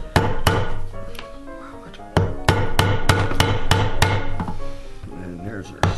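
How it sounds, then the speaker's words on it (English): A slot punch is struck through a leather belt to make the buckle prong hole, with a series of sharp, loud hammer blows in uneven rhythm, some quick pairs, ringing briefly against a hard bench nearby. "We're going with our slot punch for our buckle prong to go through."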